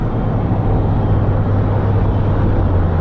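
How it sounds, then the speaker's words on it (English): A car with an automatic transmission under repair, running as it shifts toward overdrive and lockup, heard as a steady, close engine drone at light throttle. "If I give it a little bit of gas,"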